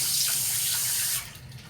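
Water poured steadily over leaves being washed for cooking, a loud continuous splashing stream close by that cuts off abruptly near the end, with no talking.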